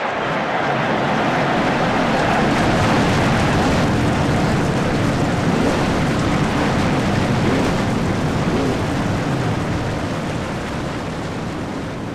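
Race car engines firing and roaring together at Dover in a racing video game, a loud, continuous, dense rumble that holds steady throughout with no voices.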